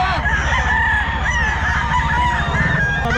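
Many roosters and fowl crowing and clucking at once in the crowded Bocaue pet market, a dense, loud chorus of overlapping calls with no talk.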